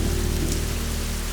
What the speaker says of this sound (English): the rain and thunder outside your window lull you deeper and deeper into a calming slumber